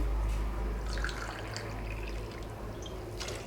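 Water is poured by the tumbler into a pan for wheat rava upma, giving a soft, close splashing and trickling that runs on for a few seconds with a low background rumble.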